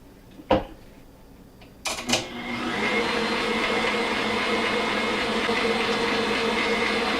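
An electric stand mixer starts up after a couple of knocks and settles into a steady, loud whirring hum as it beats a lemon no-bake refrigerator pie filling. No talking is heard.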